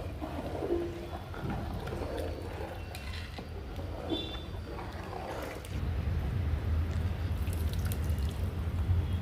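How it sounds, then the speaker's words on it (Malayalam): Hot water is poured over rice in a pot for vegetable pulao. A soft, steady rushing pour sets in partway through after faint clinks and drips, fairly quiet and close, with no talk. "അതിന് ചൂടുവെള്ളം ഒഴിച്ച് കൊടുക്കുക."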